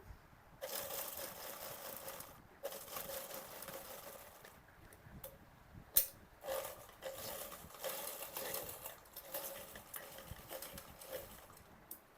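A sewing machine stitches a high neck blouse collar, running in a steady close whir with a few brief pauses and stops along the way. No one speaks.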